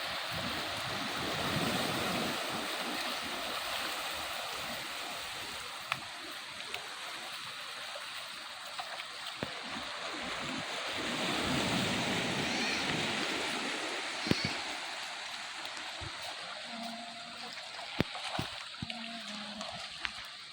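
Ocean waves at the beach in Dinguisit, Baler, Aurora: a continuous broad wash of surf with gentle swells in loudness, moderately distant, and a few faint knocks and clicks near the end.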